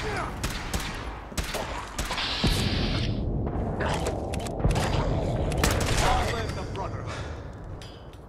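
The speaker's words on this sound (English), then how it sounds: "it's really hard to shoot steady" Virtual gunfire in Fallout 4 VR, a string of sharp shots spread through the clip alongside weapon handling clanks, with someone talking over the action.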